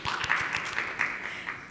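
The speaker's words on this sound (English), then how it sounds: "So please give her a quick round of applause." Audience applause at an emergency medicine awards presentation, a steady wash of many hands clapping at moderate distance that fills the whole moment without pause.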